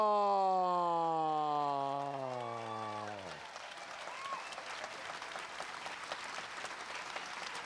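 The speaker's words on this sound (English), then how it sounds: "Big round of applause" Audience applause at a millionaire panel talk, a steady crowd clapping that rises after a fading tonal sound and holds at moderate level to the end.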